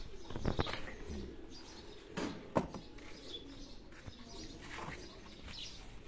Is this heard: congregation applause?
no